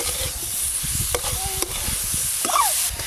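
Raw mango pieces stirred with sugar in hot oil, a close scraping stir with a steady sizzle underneath and a few sharper clinks of the spoon against the pan.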